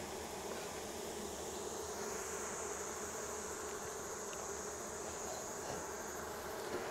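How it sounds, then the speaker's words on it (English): Honey bees fan at a hive entrance while smoke drifts, a soft, dense, continuous buzzing hum heard outdoors on a still day, steady and unbroken throughout. "See them bees fanning, they're just blowing that smoke."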